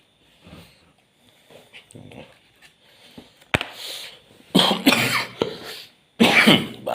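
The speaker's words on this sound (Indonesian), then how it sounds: "Batuk" Several harsh, close coughs burst out in a cluster, louder toward the end, preceded by softer throat noises and sniffs, with no talking over them.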